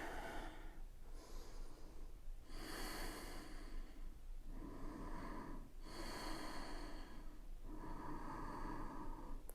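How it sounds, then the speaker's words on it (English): Slow, deep yoga breaths drawn in and let out close to the mic, about six steady inhale-exhale cycles with airy, slightly snorting nasal texture and no talking. "3 deep breaths here."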